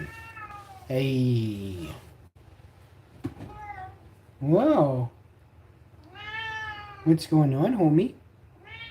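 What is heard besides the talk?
cat meowing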